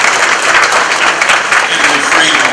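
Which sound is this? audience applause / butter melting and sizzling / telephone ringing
audience applause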